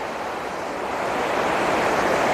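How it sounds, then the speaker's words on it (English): A waterfall on a creek pours steadily, a continuous broadband rush of falling water that swells slightly louder over a couple of seconds, with no voices. "get a nice view of the waterfall here."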